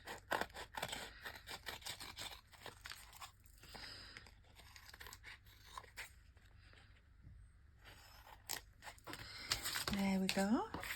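Scissors snip around the edge of a mixed media paper tag in a series of short, crisp cuts, quiet and close, with a voice talking over parts of it.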